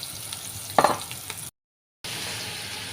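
Onions and vegetables fry in a pan with a close, steady sizzle, broken by a brief stirring clatter early on and a short dropout partway through.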